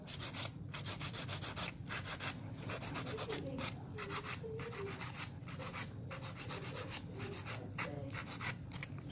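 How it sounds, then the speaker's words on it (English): A nail file rasping rhythmically across an acrylic thumbnail, quick repeated close strokes with short pauses between them. "So I'm gonna file this thumb first."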